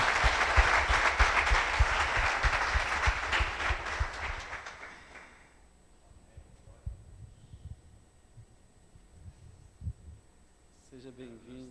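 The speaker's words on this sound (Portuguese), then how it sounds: "Eu quero receber esse homem de Deus, com uma salva de palmas a Jesus pela vida dele" A church congregation gives a pastor a loud round of applause that fills the space for about five seconds, then dies away into a quieter room with scattered sounds and murmuring.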